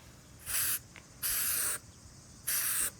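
Aerosol coating sprayed onto a car headlight during restoration, three short hissing bursts separated by pauses, close and fairly loud over a quiet background.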